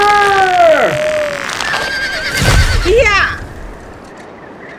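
A gray horse lets out loud, shrill whinnies close by, with a sharp shout and thudding movement as it bolts, then the noise falls away.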